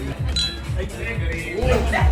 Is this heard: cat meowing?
no